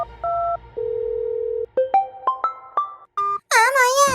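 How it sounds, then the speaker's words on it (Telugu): A telephone call is placed: a steady dial tone gives way to a run of short dialing beeps, ending in a loud warbling ring-like tone. "ముక్కుగాడికి ఫోన్ చేద్దాం."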